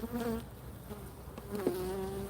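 Honeybees buzz steadily around an open beehive during a hive check as frames are handled, a close, continuous droning hum with a few louder passes near the listener.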